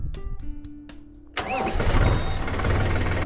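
A 2025 Mahindra 405 tractor engine cranks and catches, then settles into a loud, steady rumbling idle close by.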